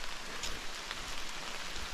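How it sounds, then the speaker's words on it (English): Steady rain falling on a campsite along the Algonquin Western Uplands trail, a dense constant hiss of drops close by with no pauses. "But damn, is it raining."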